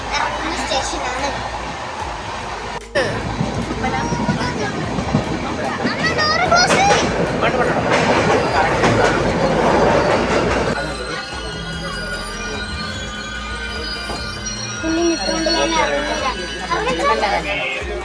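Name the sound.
train arriving at a station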